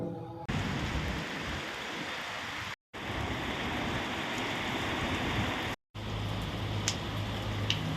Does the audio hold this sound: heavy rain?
yes